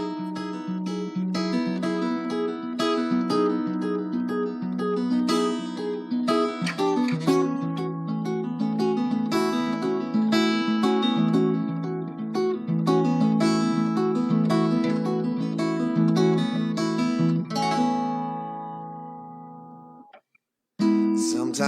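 Guitar playing a song in a relaxed home blues session, a clean melodic line with picked chords and bent notes ringing steadily for about twenty seconds before stopping abruptly, alone with no talk.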